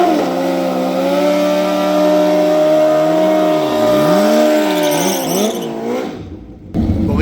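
A Gen 3 Suzuki Hayabusa fitted with a Super Stock Box roars loud and close under hard acceleration during a ride, its engine pitch holding high, then dipping and rising through gear changes before it cuts out abruptly.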